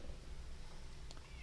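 A cat meows once, briefly, partway through, over steady low background noise and game sound.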